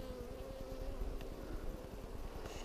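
Honey bees at a Flow Hive in Alaska, a low, steady buzzing with a rapid pulsing beat and a faint whine above it, soft and close, with no talking.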